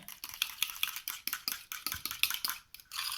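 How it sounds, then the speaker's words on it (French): A fork stirs mashed egg yolks into mayonnaise in a bowl, quick repeated scraping and clinking taps against the dish, close and fairly quiet with no voice. "J'incorpore progressivement de la mayonnaise"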